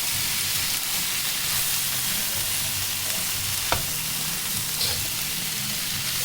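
Shrimp sautéing with garlic in a pan sizzle steadily and close up while being stirred, with a brief scrape of the utensil partway through and no talk.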